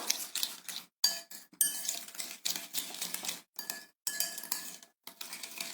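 Sugar being beaten into a mixture in a bowl, a utensil clinking and scraping against the bowl in quick bursts separated by brief pauses, close and fairly quiet.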